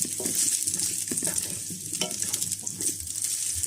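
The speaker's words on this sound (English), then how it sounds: "So now we are going to fry the chicken." Chicken pieces stir frying in a little oil, a steady close sizzle with intermittent scraping and stirring clatter of a utensil against the pan.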